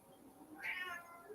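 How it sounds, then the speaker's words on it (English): One short, faint cat meow, rising and then trailing off, sounds from somewhere nearby against a quiet background. "The cat meowed."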